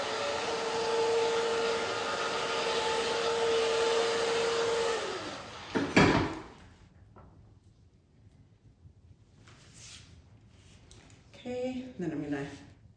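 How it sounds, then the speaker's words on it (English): A hair dryer roars steadily for about five seconds while drying a child's hair during a haircut, then clicks off abruptly, leaving quiet room sounds and a brief burst of speech near the end. "I'm gonna use the blow dryer a little bit."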